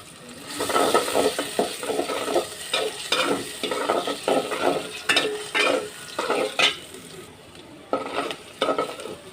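Chopped onions and sliced green chillies fry steadily in oil with a busy sizzle, broken by repeated scraping and stirring strokes from a spatula, close and fairly loud.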